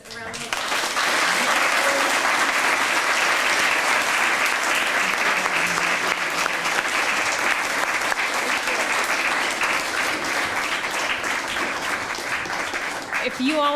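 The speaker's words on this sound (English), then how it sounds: "give our guests a round of applause." Sustained applause from an audience thanking guests at a teaching and religious education event, steady and dense throughout with no talking over it.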